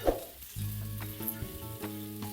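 Curry ingredients sautéing in a pan for a chapati side dish, a steady close sizzle with the scrape and clatter of stirring, with no talking.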